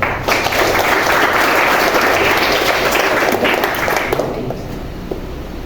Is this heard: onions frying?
no